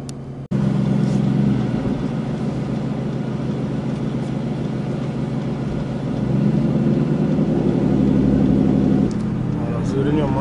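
A car engine idles steadily and close by, a low continuous rumble that swells slightly louder partway through, with a voice speaking over it.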